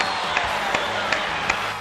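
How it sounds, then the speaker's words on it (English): A crowd claps steadily after a Cass High School band show, a dense wash of applause with a few sharper accents, heard from a distance through a recording. "There, more clapping sound."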